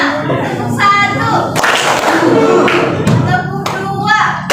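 A classroom of students clapping in response to a teacher's call for one clap, sharp group hand claps landing in bursts between the teacher's spoken prompts.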